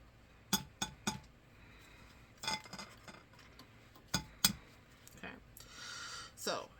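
An egg is cracked against a glass of water, giving several sharp, close glassy clinks in uneven bursts at a low level, with faint rustling between them.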